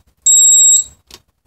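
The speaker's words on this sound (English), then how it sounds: "that's just the lost craft alarm, goes on every minute" A single loud, piercing electronic beep lasts about half a second, followed by a short fainter blip, from the lost craft alarm of the APM Planner ground control software running on a Mac.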